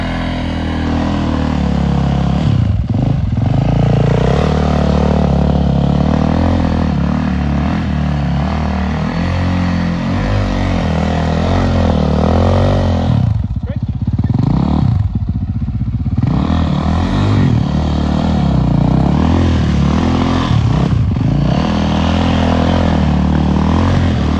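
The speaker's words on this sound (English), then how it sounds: "You want to roast the tire off that thing? You donuts on that?" A motorcycle revs hard and spins its rear tire doing donuts in snow, a loud, close, sustained engine roar with surging pitch and brief dips as the throttle eases.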